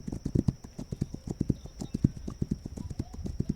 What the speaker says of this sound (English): we're going to take the horse over here